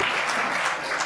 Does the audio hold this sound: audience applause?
yes